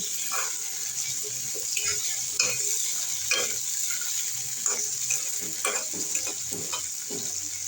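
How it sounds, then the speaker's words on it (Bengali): Boiled jackfruit seeds frying in oil in a wok make a continuous bright sizzle, with repeated scraping taps from stirring throughout. "এখন কাঁঠালের বীজটাকে আমি ভালোভাবে ভেজে নেব তেলের মধ্যে"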